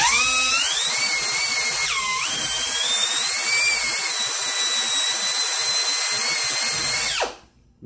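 A drill bores holes in a Ford CD4E transmission valve body, giving a loud, steady high whine that dips briefly under load and then winds down to stop.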